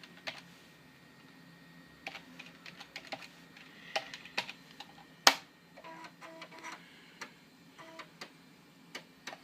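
Keys clack on a PC keyboard as an install command is typed, in irregular bursts of close, crisp taps with short pauses and one sharper knock midway, over a faint steady hum.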